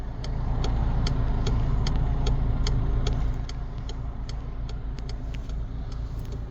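A recently repaired Volkswagen car with a DSG automatic transmission idles close by, giving a steady low engine rumble with a faint, regular ticking on top, and no one speaking.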